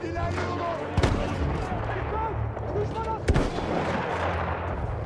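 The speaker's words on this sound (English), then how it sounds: "Fine, shotgun time." Shotgun blasts in Battlefield 1: two sharp loud reports about two seconds apart, over a dense bed of game noise, engine drone and scattered voices.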